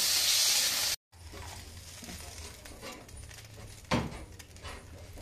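Water is poured into a hot pan of cooking chicken, setting off a loud steady sizzle and hiss that briefly cuts out, then continues as a softer bubbling fry with a sudden spitting crackle partway through.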